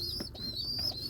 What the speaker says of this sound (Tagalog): Yan sila mga kalapatids.